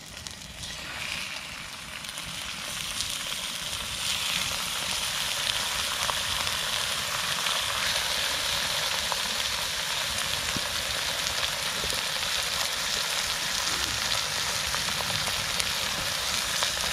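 Steady broadband sizzle of food frying in a Lodge cast-iron skillet set on a raised platform over a Swedish torch fire, continuous and fairly loud throughout with no talk.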